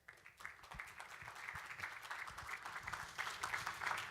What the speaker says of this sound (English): let's give a big round of applause to our first speaker